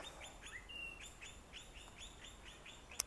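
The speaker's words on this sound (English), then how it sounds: "Wow, the birds are quite active." Birds chirp and tweet in an evening park, short bright calls repeating in a steady rhythm at moderate distance over a quiet background, with one sharp click near the end.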